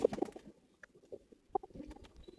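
Pigeons coo softly at a pigeon farm, a few low, brief throaty calls with light rustling and patter around them.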